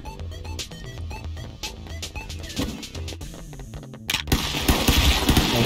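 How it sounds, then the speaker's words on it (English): Rapid bursts of cartoonish gunfire from the game Stick Fight crackle over busy game music, and the shooting grows denser and louder near the end. No one speaks. "I'm gonna shoot my way out of there."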